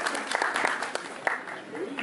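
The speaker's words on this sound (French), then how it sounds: "Sous vos applaudissements, s'il vous plaît" Audience applause at a networking and diversity gala, brief scattered clapping mixed with voices and talk throughout.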